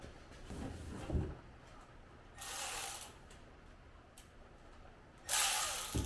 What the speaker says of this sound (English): Alright, let's use the power ratchet and get it on that nut.